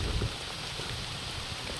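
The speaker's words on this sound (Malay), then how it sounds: "Hujan semakin mengganas geng." Heavy rain falls steadily in misty highland forest on a hike toward Gunung Hijau near Taiping, a soft continuous wash of drops with no voices.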